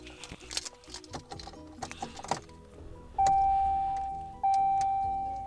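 A 2017 RAM 1500 ST pickup's key fob is pressed, and two loud, sustained electronic beeps follow, apparently the truck's lock and unlock confirmation tones, after some quieter clicks and handling noises in a quiet interior.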